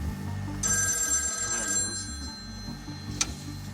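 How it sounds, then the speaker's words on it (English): A telephone rings clearly in a still, silent setting with no traffic or voices, its electronic tone sustained for a few seconds before a single short, sharp click near the end. "a ringing phone was almost violent, and you couldn't ignore it"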